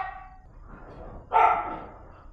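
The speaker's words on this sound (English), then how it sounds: "my dogs barking and it picking up my mic" A pet dog barks in a home, a short burst of a few loud, close barks breaking through a quieter stretch of faint room noise.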